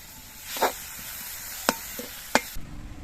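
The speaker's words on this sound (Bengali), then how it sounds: "মূলোর ডাটাগুলো উনুনে রান্না হচ্ছে" Radish stalks cooking in a pot on the stove give a soft steady hiss, broken by a few sharp stirring clinks and scrapes.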